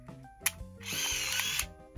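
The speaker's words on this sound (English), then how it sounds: "When you hit the shutter button, that's going to advance it." Mechanical clicks and a whirring motor wind as a camera shutter fires and film advances, with sharp snaps before and after the drive noise.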